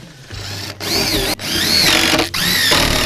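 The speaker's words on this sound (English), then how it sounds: "Okay, got the top screwed down." A power drill drives screws into a home-made bench press top in three bursts, loud and close, with its motor pitch rising and falling and short pauses between runs.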